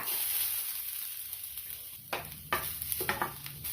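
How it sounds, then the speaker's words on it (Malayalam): Grated coconut dry-roasts in a hot pan without oil: dry scraping and stirring, a few bursts of rustling sizzle against a faint steady hiss, no voices. "ചൂടായ ഒരു പാനിലേക്ക് തേങ്ങ ഇട്ട് കൊടുക്കാം. ഇതിപ്പോൾ ഞാൻ ഇതിനകത്ത് എണ്ണയൊന്നും ചേർക്കുന്നില്ല."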